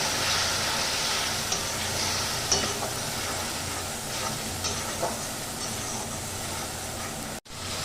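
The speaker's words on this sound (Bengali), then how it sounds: "এবার আমি বেটে রাখা মশলাটা এর মধ্যে দিয়ে দিচ্ছি দিয়ে ভালো করে কষিয়ে নেব" Ground spice paste stir-fries in hot oil for a sar punti fish curry, giving a constant loud sizzle with occasional stirring scrapes and a brief cutoff near the end.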